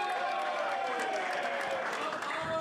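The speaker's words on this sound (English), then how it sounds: "Let's give a round of applause for Football Full," Guests at a toast applaud steadily, a dense wash of clapping and crowd noise lasting a few seconds.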